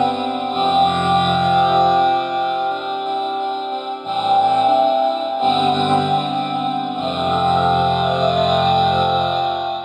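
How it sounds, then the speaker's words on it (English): A buzzy synthesized saw-wave chord from a Perform-VE synth holds steady, drenched in reverb, shifting pitch a few times and sustaining loudly throughout. "I'm just gonna use a pretty basic saw wave, and let's see how that sounds just with the reverb"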